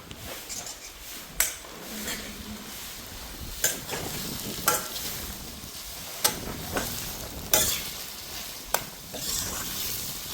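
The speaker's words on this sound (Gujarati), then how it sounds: "ડુંગળી એકદમ પાકીને કમ્પ્લીટ તૈયાર થઈ ગઈ છે એકદમ ગોલ્ડન બ્રાઉન થઈ ગઈ છે" Sliced onions with salt fry in a pan until golden brown, a steady sizzle broken by repeated sharp scrapes of a spoon stirring against the metal, close and moderately loud with no voices.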